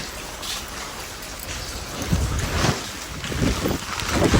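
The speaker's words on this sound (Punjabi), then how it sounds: "ਹਵਾ ਚੱਲਦੀ" Gusty wind during a heavy rainstorm buffets the microphone with low rumbling bursts, growing stronger toward the end, over a constant rushing background.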